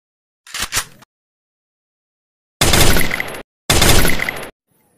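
A short toy-like burst, then two loud sustained rattling bursts of rapid electronic gunfire from a toy FAMAS rifle, each about a second long, separated by brief silence.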